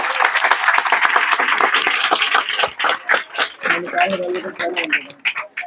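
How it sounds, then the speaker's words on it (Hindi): Loud applause from an audience at a school Teacher's Day celebration, dense clapping that thins out toward the end as a voice starts speaking over it. "एक बार जोरदार तालियां बजाइए।"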